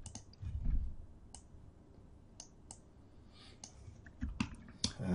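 Sparse keyboard clicks from a computer user entering text in Cinema 4D, a few scattered keystrokes with pauses between them, fairly quiet and close against a low room hum, with no talking.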